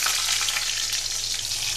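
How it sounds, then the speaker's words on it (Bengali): Slit green chillies sizzle in hot oil with a panch phoron tempering, a loud steady frying hiss that fills the whole stretch without pause and with no voices over it. "ফোড়নটা ভাজা হয়ে গেলে দেবো চেরা কাঁচা লঙ্কা"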